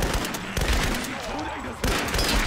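Gunfire from a Tomb Raider multiplayer match, a commando rifle firing in dense, rapid bursts that stay loud and close through the clip, with a sharp jump in intensity near the end.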